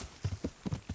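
Horse hooves galloping in the video game Kingdom Come: Deliverance, a quick run of about five soft, thudding clip-clops within a second, close and clear with no other sounds.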